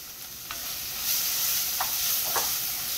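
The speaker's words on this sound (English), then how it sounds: "So I'm gonna saute my onions and my garlic, which I'm doing right now" Onions and garlic sauté in a pan with a steady loud sizzle and hiss, and a few soft stirring scrapes come through from close by.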